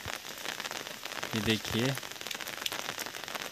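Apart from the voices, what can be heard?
heavy rain falling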